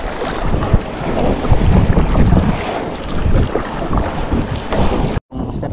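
Large sea waves slosh and crash around a small fishing boat out at sea, a loud churning wash mixed with strong wind buffeting the microphone, continuous and close, with a brief dropout near the end.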